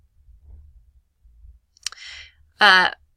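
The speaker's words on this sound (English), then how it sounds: "if you just click on the folder" A computer mouse clicks on a folder in a course website, a couple of brief sharp clicks close to the microphone over quiet background hiss.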